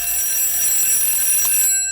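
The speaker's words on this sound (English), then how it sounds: "your daughter has set an alarm for the street or her own self" An alarm clock rings continuously in a home, a loud, steady, high electronic tone that runs close and alone for nearly two seconds before cutting off abruptly.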